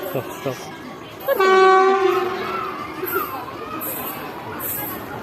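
A train horn blares loudly for about a second with strong harmonic tones, over rumbling rail noise and distant crowd chatter and shouting.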